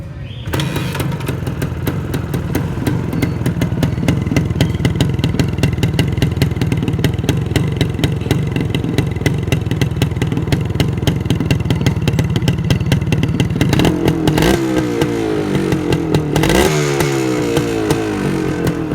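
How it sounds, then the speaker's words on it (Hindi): A 1994 Suzuki TS 185cc motorcycle engine runs steadily at close range, a dense, continuous thrum with mechanical clatter, then blips and revs unevenly toward the end with no talking. "इसके बाद अब चलते हैं इस बाइक के साउंड टेस्ट की तरफ।"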